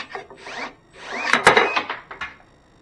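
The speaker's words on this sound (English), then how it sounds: "This is the Milwaukee pruning shear cutting the same dowel." A Milwaukee cordless pruning shear bites into a 3/4 inch pine dowel in a quick series of motorized whirs and crunching snaps, several short bursts clustered close together with nothing else around.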